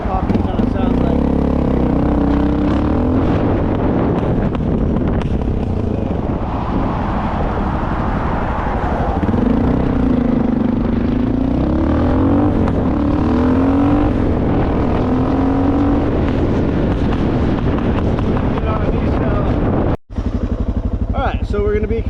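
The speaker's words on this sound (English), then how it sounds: "And we'll just see what that D-cell popping kind of sounds like." A Suzuki DR650 motorcycle engine runs close by with a rough, lumpy exhaust note and intermittent popping, its pitch rising and falling with throttle, while someone talks over it.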